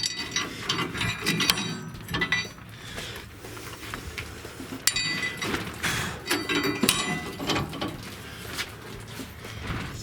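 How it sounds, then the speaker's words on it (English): A ratchet wrench clicks while U-bolts are tightened during a Fabtech 4-inch lift kit install on a 2016 Chevy 1500 truck. Its steady mechanical ratcheting and metal clinks sit close by, with no speech. "Now we're gonna put the U-bolts on this side."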